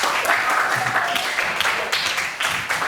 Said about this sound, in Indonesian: beri tepuk tangan untuk semuanya